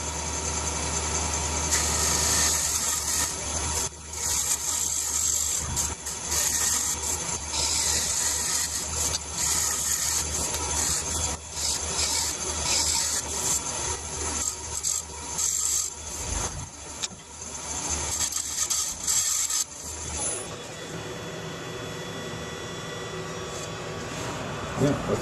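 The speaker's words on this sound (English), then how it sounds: "let's do some light scraping now and get ready for sanding" Light scraping on a turned wooden bowl ahead of sanding, a steady rough rasping of steel on wood that runs continuously at close range before easing off near the end.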